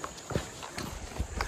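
Horse hooves clip-clop on a trail in a steady walking rhythm, several distinct thuds at moderate distance against faint outdoor background.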